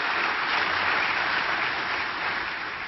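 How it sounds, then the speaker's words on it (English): Steady applause from a crowd, a dense continuous patter of clapping that holds level for a few seconds before easing slightly at the end. "I'd like to have a round of applause for the staff members."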